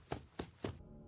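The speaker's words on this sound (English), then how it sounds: "And moving to the left hall sounds like this." In the video game Five Nights at Freddy's 4, Foxy moving to the left hall makes three evenly spaced, close, dull knocking thumps, like footsteps, before cutting off.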